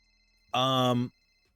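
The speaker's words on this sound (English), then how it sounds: "Is that your phone?" A phone rings once in the GTA video game, a short, loud, steady electronic tone lasting about half a second.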